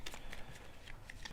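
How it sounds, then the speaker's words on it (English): A deck of modifier cards for the board game Gloomhaven: Jaws of the Lion being shuffled by hand, a quiet series of soft riffling and snapping bursts, close and alone. "Okay, so we shuffle."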